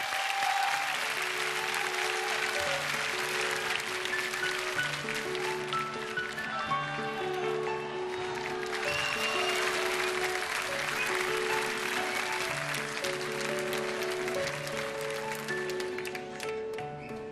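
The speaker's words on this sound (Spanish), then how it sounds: "Un aplauso forte." Loud, sustained applause from a live concert crowd for a singer fills the whole stretch, with steady music playing underneath.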